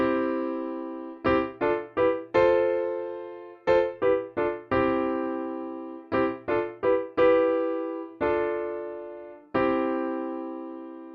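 A chord progression played on a Maschine Plus, each chord struck cleanly and decaying in bursts of three or four quick hits followed by a held chord, repeating in a steady pattern with no talk.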